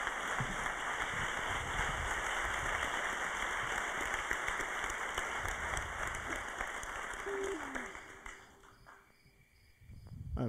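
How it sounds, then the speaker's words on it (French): An audience at an evening talk claps to welcome the speaker Christian Clot, dense steady applause that fades toward the end, with a little background noise. "Merci d'applaudir très fort Christian"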